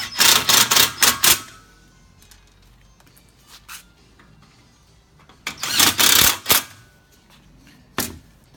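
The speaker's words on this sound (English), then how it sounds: "So you hold it with one hand, and then you just screw these screws in." Screws being driven into a plenum adapter for an air handler, heard as two close bursts of rapid, loud ratcheting whirs separated by a quiet pause, then a short final buzz.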